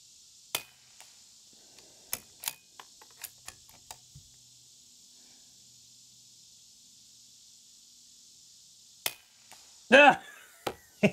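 A quiet rifle's bolt is worked by hand: a few sharp metallic clacks and slides up close, separated by a long near-silent gap over a steady high hiss, with a louder burst of handling near the end.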